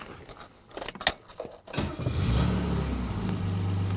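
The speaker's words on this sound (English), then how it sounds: "let's fire the engine up and see if that made a difference" Keys jangle for a couple of seconds. Then a gas engine with a misfire cranks, catches and settles into a loud, steady but rough idle close by.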